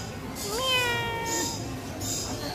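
A cat meows once, a clear rising-then-falling call close by, with faint background noise around it.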